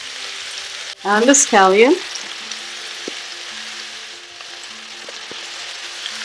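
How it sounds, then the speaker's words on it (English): Chunky vegetables with thyme and scallion stir-fry in a hot pan on high heat, a continuous soft sizzle beneath a brief spoken line, with a couple of light clinks of stirring. "Stir fry for a couple of minutes"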